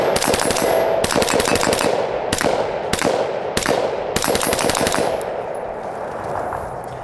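An unsuppressed MK18 rifle in 5.56 fires rapid rounds, each shot a loud, sharp crack close by, in quick irregular strings over a constant roar of echo.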